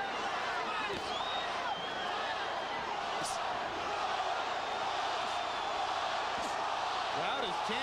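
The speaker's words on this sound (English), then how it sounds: "Crowd is chanting Roy, Roy, Roy." At the Glen Johnson versus Roy Jones Jr. boxing match, a big arena crowd chants Roy in a continuous loud roar, with a commentator talking over it the whole time.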